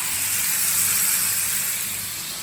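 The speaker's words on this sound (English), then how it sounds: "Grab your chicken and sizzle, sizzle." Loud, steady sizzling hiss of chicken breast with ginger and turmeric frying in a hot pan, close and continuous, easing slightly toward the end.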